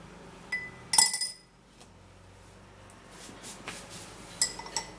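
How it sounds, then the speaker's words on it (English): A spoon clinks against a glass while stirring maca powder into milk, with a few sharp, close taps and faint scraping spread through the clip and no talking. "You're going to stir the powder."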